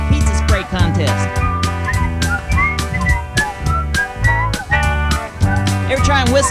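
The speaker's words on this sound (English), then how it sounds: "Come on, everybody whistle up here." Several people whistle a bouncy tune together over rhythmic backing music, with repeated punchy beats underneath.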